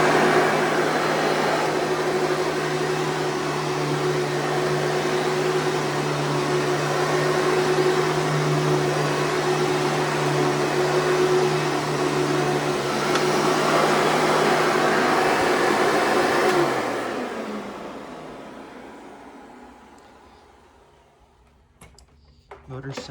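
Vacuum cleaner motor running at a steady, close hum with a constant tone, then winding down and fading near the end.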